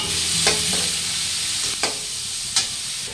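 Chicken for chicken chow mein fries with garlic and chili in a pan, giving a loud, steady sizzle broken by three sharp scraping stirs of a utensil, with no voices.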